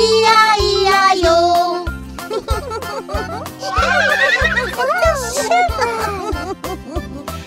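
A horse neighs within a cheerful French children's farm song, a quivering whinny rising over bouncy music and a steady beat, with singing voices around it.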